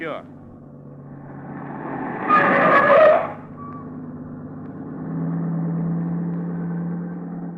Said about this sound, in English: That car that just passed.